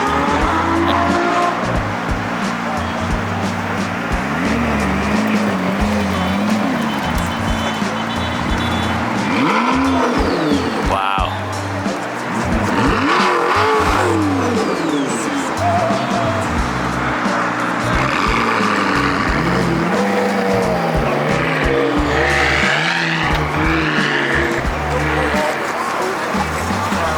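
Loud, constant roar of race cars at a car event, including a Master of Monaco Senna XP, speeding past and revving, engines rising and falling with occasional screeches, with people talking underneath.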